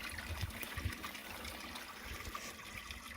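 Water trickles from a solar-powered watering system at a small spring on cattle pasture, a faint, steady dribbling with soft splashes, quiet and continuous, with no one speaking.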